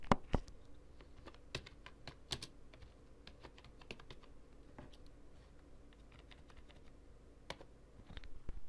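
Someone types on a computer keyboard, a quiet, irregular run of close key clicks with short pauses and a few louder taps at the start and end.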